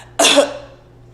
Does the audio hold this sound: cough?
yes